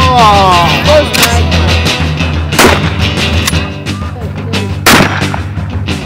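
Loud shotgun blasts ring out over continuous background music, a few heavy booms spaced across the stretch with echoing tails.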